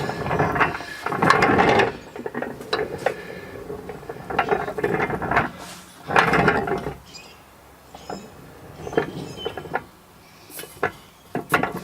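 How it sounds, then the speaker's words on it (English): A wheeled car dolly rolls down a small shop-floor incline under its own weight, its casters giving quiet rattling, clicking bursts that come and go, close by. "And it's rolling down this little incline on its own weight."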